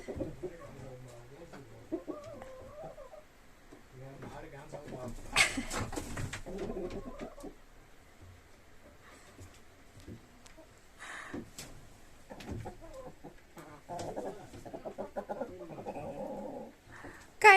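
Pet chickens give off scattered clucks and coos close by, in irregular bursts across the stretch, with other birds and a dog also audible and someone talking intermittently over them.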